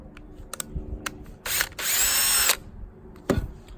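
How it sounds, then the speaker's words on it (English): A power drill backs out long through-bolts that run the full length of a hot tub pump motor case, giving a short whirring burst with a few clicks and taps before and after it, close and moderately loud, without voices. "we need to spin this around and remove these 4 long bolts, which actually run all the way through the motor case"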